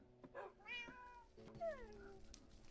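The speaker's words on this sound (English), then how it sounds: "Don't eat the cake, you gluttonous little cat." A cat in Minecraft meows twice, with short rising-and-falling cries separated by a brief pause, heard fairly close against a quiet background.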